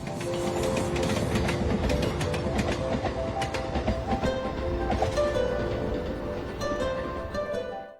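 A train rumbles past close by, with loud continuous rolling noise, rhythmic wheel clatter, and metallic squeals throughout.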